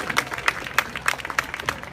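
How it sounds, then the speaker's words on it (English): An audience at a safari park cheetah run claps for the keepers, a sparse, light patter of hands with distinct claps about every third of a second, fairly quiet and distant. "so let's give them a round of applause."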